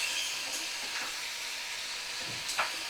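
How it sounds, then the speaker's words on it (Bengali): Button mushroom curry sautés in a pan with a soft, steady sizzling hiss, broken by a few light scrapes of stirring. "তো সুন্দর করে দেখো আমি কষিয়ে নিচ্ছি"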